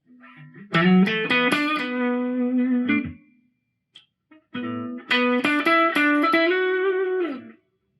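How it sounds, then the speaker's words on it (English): An electric guitar plays two sustained chord phrases through an Oceans 11 pedal set to a moderate spring reverb, each ringing out with a lingering reverberant tail before a short pause. "So you have kind of a moderate spring reverb."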